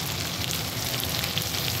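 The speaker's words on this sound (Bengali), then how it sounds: "ভাজা তেল ছেড়ে দিয়েছে, দেখেছো? তেলটা ছেড়ে দিয়েছে।" Food frying in oil in a pan, an even, close hissing sizzle with a fine crackle that holds steady and unbroken, no voices.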